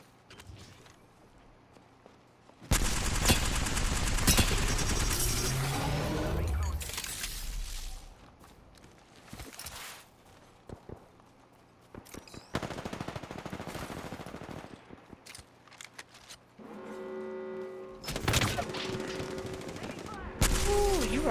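Bursts of video game gunfire crackle loudly through a tense firefight, long rapid volleys around the start and shorter sporadic shots later, with players talking over the action.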